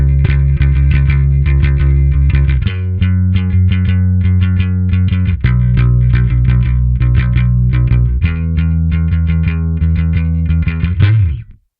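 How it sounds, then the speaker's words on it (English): Bass guitar played through the Neural DSP Parallax X distortion plugin, loud heavily distorted sustained notes changing pitch every few seconds with picked attacks, ending in a quick slide and cutoff. "I wonder if it's always supposed to have like distortion or if it's that I'm just pounding it."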